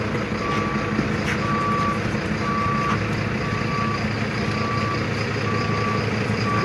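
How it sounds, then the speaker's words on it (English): A waste collection truck backs up, its reversing alarm sounding a steady series of evenly spaced beeps over a constant engine rumble, with no voices. "recently presented a waste truck to the population of the municipality"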